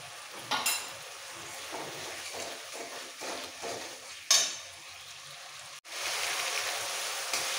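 Spice paste with green chilli sizzles and is stirred in a pan for katla fish curry, a steady frying hiss with scraping stir strokes and a brief splash as a little water goes in; no voices.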